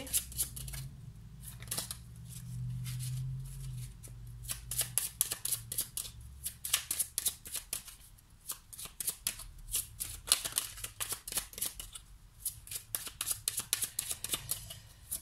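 Tarot cards are drawn and shuffled from a deck, giving a long run of close, crisp papery flicks and slaps in quick irregular bursts, with a soft low rumble beneath the first few seconds.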